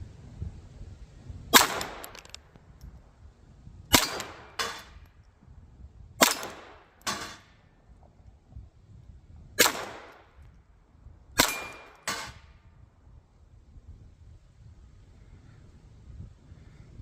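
.22 pistol firing at 2-inch steel targets 15 yards away outdoors: six sharp shots spaced a few seconds apart, several pairs each with a ringing metallic clang, with faint wind between them.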